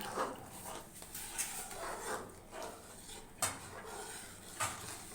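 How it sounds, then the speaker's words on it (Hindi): A spoon stirs custard powder into milk in a pot, scraping softly and steadily with occasional light metallic clinks, close but fairly quiet. "साथ साथ जो है चम्मच ये बराबर चलाते रहेंगे"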